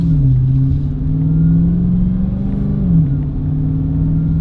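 A 2022 widebody Dodge Charger Hellcat engine pulls under light throttle, a loud, close, steady low rumble with rising and falling pitch sweeps as it accelerates, no voices over it.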